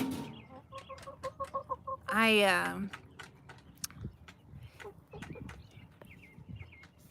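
Hens and bantam chickens cluck in a backyard flock at evening, a run of short repeated clucks near the start, then a louder drawn-out squawk, with scattered softer clucks and people talking throughout.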